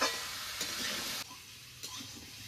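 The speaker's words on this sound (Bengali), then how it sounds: "এবার নেড়ে চেড়ে সবজিগুলোকে ভালো করে কষিয়ে নেব" Mixed vegetables with green chillies being stirred and sautéed in a pan for a six-vegetable vegetarian curry, a steady close sizzle broken by a few scraping stirs, with no talking.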